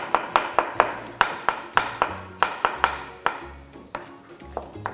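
A knife chops scooped-out zucchini flesh finely on a board, sharp rhythmic taps about two or three per second, close and clear, slowing and softening toward the end.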